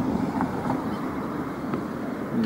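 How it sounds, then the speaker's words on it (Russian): Steady wind rushes and buffets the microphone in a low, continuous roar in Hamburg, with faint distant background noise. "Ветрено встретил нас Гамбург, но ничего."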